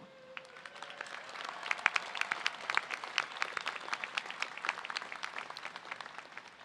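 A university commencement audience applauds faculty and staff, scattered sharp claps that swell into moderate applause at a distance, fairly faint and without voices over it.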